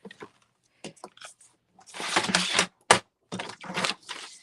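Vellum paper is cut in short, crisp bursts of snipping and slicing, close and sharp, with brief pauses between strokes and a few clicks before the longer cuts.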